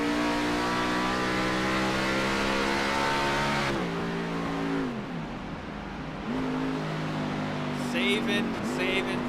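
A race car engine at Sonoma holds a loud, steady high-revving drone, then briefly cuts out and stutters as it crosses the start-finish line, with revs dipping and recovering under faint background voices.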